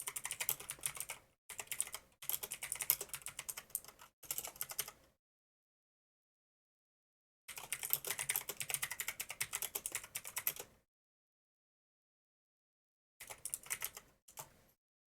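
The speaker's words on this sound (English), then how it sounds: "I'm typing up a storm here real quick." Rapid typing on a computer keyboard comes in several bursts of dense key clatter, separated by silent pauses, close and fairly quiet, with no voice over it.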